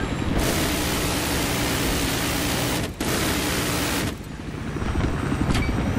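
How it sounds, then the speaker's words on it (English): Scout helicopter flying in Battlefield 3 during Armored Kill gameplay: a loud, steady broadband rotor and engine roar filling the whole clip, briefly dipping twice, with no talk over it. "The fucking scout helicopter,"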